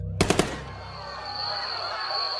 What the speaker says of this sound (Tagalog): nang makarinig kami ng sunod-sunod na putok ng Armalite